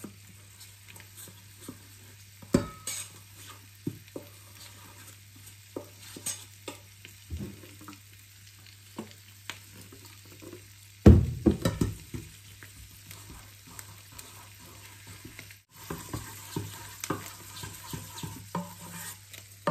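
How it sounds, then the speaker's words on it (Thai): A spoon stirs a water-thinned batter mixture for frying, giving soft intermittent scrapes and taps against the bowl over a quiet background hiss, with a louder clatter midway and busier stirring toward the end. "แล้วก็คนให้เข้ากัน"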